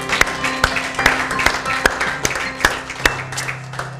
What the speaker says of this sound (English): Give the Lord one more hand clap of praise.